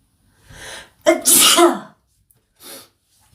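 A single loud, close sneeze with a quick breathy intake before it and a faint exhale afterward.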